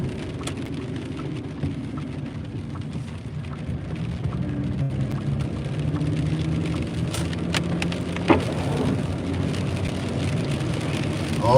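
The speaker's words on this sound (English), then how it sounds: "Now it's raining hard." Heavy rain pours down steadily in a dense, continuous wash with a few sharper drops and knocks, heard on a delivery run.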